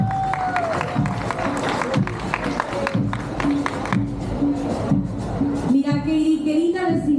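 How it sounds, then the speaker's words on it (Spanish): Crowd applause at a parade in the historic centre of Santa Ana, steady clapping and cheering under a loudspeaker voice, with music and a brass-like tone rising toward the end. "Un fuerte aplauso, por favor"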